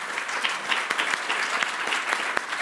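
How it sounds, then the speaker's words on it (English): An audience at the Prime Minister's Literary Awards 2025 applauds steadily as a publisher accepts an award, with dense, continuous clapping of even loudness throughout. "Round of applause for Harriet."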